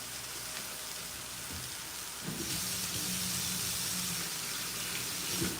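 Tap water runs steadily into a sink while someone washes their hands in a home kitchen, the flow growing louder and fuller partway through, with faint splashes and clatter and no talking.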